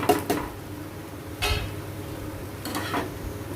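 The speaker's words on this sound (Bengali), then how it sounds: "তার আগে এটাকে সুন্দর করে একটু নাড়াচাড়া করে নিচ্ছি।" Spiced soybean cutlet mixture being stirred in a pan, a few distinct scraping and clinking strokes of a utensil against the pan spread over a few seconds, quiet between strokes.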